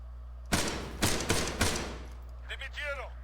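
Machine-gun fire in the military shooter Arma 3 comes as three loud, sharp bursts about half a second apart over a steady low hum. A brief radio-like voice follows.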